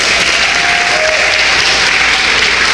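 A crowd at the National Reparations Convention 2024 in Washington, D.C. gives a speaker a round of applause: loud, dense, continuous clapping heard up close, with a faint tone briefly running underneath.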